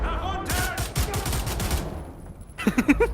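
Pistol gunfire in the World War II shooter Wolfenstein, a loud rapid burst of overlapping shots and clattering impacts, a short lull, then a few more punchy shots at the end.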